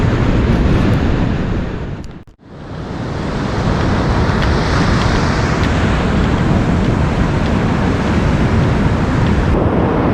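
Ocean surf churns in whitewash before sunrise on a dropping tide, a loud, continuous roar of breaking water with a brief dip partway through, with no voices.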